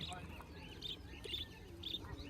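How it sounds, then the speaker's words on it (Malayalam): Pigeons coo and chirp softly in the background at a Friday market with animal stalls, several faint calls repeating under a low, busy murmur. "ഇങ്ങനെ പ്രാവുകളൊക്കെ ഇങ്ങനെ നിരത്തി വെച്ചിട്ടുണ്ട്"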